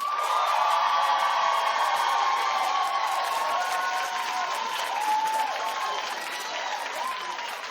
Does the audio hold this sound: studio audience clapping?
yes